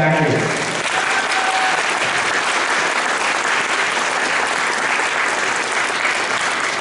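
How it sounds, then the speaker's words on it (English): An audience at a congressional campaign launch party breaks into loud, sustained applause that fills the whole stretch, with dense clapping near and far and some crowd voices underneath. "So a round of applause for this benefactor."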